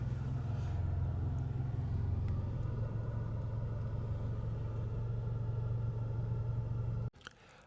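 Inside a moving car in Georgia, a steady low engine and road rumble drones evenly for several seconds before cutting off abruptly.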